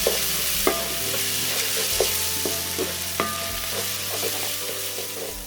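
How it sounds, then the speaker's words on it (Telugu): Ginger garlic paste for Andhra-style chicken pulao sizzles in a pan, with a steady hiss under repeated sharp scrapes and taps of a spoon stirring against the metal. "ఇదిగో అల్లం వెల్లుల్లి పేస్ట్ ఇది కూడా ఇందులో వేసేసుకుందాం ఇది కూడా పచ్చి పోయే వరకు దీన్ని కొంచెం వేయించుకుందాం"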